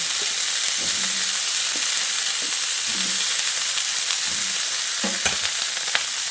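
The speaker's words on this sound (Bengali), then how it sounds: "মাছ ভেজে তুলে নেওয়ার পর এবার আমি কেটে রাখা ফুলকপিগুলো তেলের মধ্যে দিয়ে দিচ্ছি" Cauliflower and potato pieces frying in oil in a pan, a loud constant close sizzle with repeated scraping and knocking of a spatula as they are stirred, no voices.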